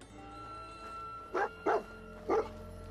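Three short barks from a dog companion in Fallout 4, each one distinct and spaced across about a second, heard at moderate distance against a low, steady game ambience with no talk.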